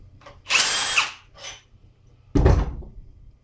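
A power tool removes 14 mm AC housing bolts on a 1999 Eclipse GS, giving short close bursts of whirring and rattling, then a sharp heavier burst after a pause.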